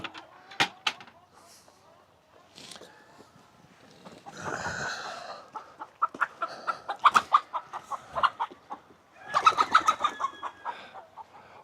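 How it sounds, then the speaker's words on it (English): Chickens on a farm cluck and squawk near by in irregular bursts, with wing flaps and scuffling, while a person speaks in between. "Looks like a Gen Pop chicken spent the night over here."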